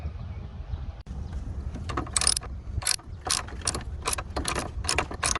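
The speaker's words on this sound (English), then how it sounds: "You will need a 12mm socket to remove this screw down here so you can be able to pull the battery out." A 12mm socket ratchet works the battery bracket screw loose on a 2009 Hyundai Elantra, close and crisp, with bursts of quick clicking strokes that start after a second and repeat in uneven runs.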